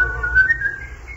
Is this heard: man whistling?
yes